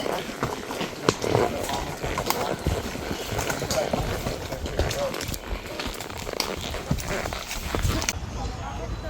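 A horse walks along a trail in the Smoky Mountains near the Sugarlands Visitor Center, hooves clip-clopping in a steady irregular rhythm close by, with rustling and crunching mixed in and talk over it.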